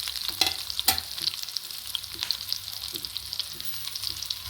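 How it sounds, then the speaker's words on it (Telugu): Black pepper and cashews fry in a pan for pongal, giving a steady close sizzle with occasional sharp crackles and the scrape of stirring, no voices. "మిరియాలండి కొన్ని వేసుకుందాము జీడిపప్పులు ఇలా కొంచెం బ్రౌన్ కలర్ వచ్చే వరకు వేయించుకుందాం"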